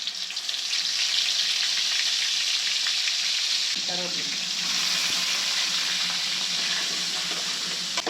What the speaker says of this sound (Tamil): இஞ்சி பூண்டு நல்லா பச்சை வாசனை போகிற அளவுக்கு வதக்கலாம்